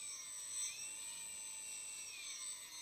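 A single quadcopter motor, armed on the bench with only one motor running, revs up as a faint, thin high-pitched whine. The pitch rises and eases slightly over a steady hiss, with no voices.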